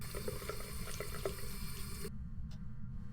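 Running water from a tap in a ghost-hunting video game, a steady close wash of flow that cuts off sharply partway through, leaving near silence with a faint drip.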